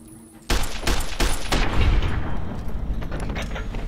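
Rapid gunfire from Fallout: New Vegas, a sudden loud burst of shots after a quiet moment, then repeated cracks and booms trailing into a dense rumbling echo.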